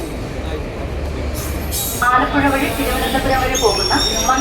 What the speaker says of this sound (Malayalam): അവിടുന്ന് നമ്മുടെ ട്രെയിൻ വരുന്നുണ്ട്